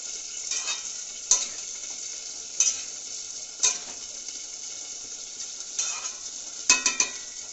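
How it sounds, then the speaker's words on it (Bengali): Malabar spinach curry being stir-fried in a pan, a steady close sizzle broken by several sharp scraping and stirring knocks of a utensil against the pan. "পুঁই শাকের সবজিটা দিয়ে দেবো, দিয়ে এটা কষতে থাকবো"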